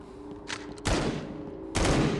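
Gunfire in the mobile zombie shooter Into the Dead 2: two heavy bursts of shots ring out, the second louder, over a low game hum.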